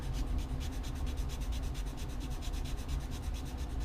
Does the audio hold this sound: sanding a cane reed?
yes